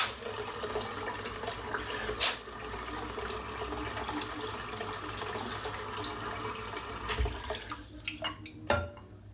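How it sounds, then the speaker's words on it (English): Hot water running from a tap into a sink, a steady close rushing stream filling the basin, with a couple of brief knocks and clatters near the end and no talking. "I'm just going to fill the sink up."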